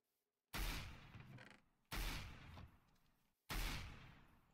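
Three loud, separate gunshots in a Minecraft Mineplex Hunger Games match with guns, each a sharp booming crack that rings out and decays over about a second, evenly spaced with silence before the first.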